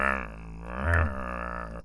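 A low, rumbling growl swelling briefly in the middle, deep and sustained, close by with no other sounds around it.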